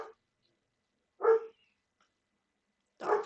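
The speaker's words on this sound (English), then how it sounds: "Dogs are barking." Dogs bark in short, isolated yaps spread apart by long silences: one at the start, one near the middle and one at the end, moderately distant and fairly quiet.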